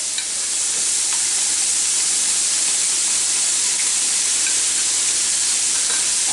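Onions hit simmering beef in a pan full of grease and sizzle with a loud, steady, even hiss that holds for the whole stretch, with only a few faint stirring clicks and no talking.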